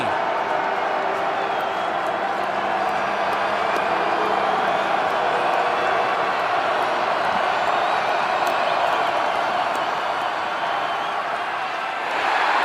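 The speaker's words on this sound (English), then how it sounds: "Listen to this crowd on 3rd and 15." A football stadium crowd roars continuously during a third-and-15 play in a South Dakota State home game, a dense sustained wall of cheering that stays loud throughout before dipping briefly near the end.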